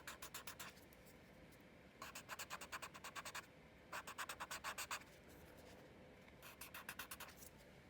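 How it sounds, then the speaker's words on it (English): Graphite pencil dragged hard across rough sketchbook paper, close and clear, in four separate bursts of quick, rhythmic scratchy strokes with short quiet gaps between. "I like to push that graphite right into the paper."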